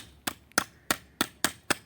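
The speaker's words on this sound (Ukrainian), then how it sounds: "беремось молоток і отак на гвіздок" A hammer drives a nail into wood while a small garden gate is being built, giving six sharp, evenly spaced knocks at close range with no talking.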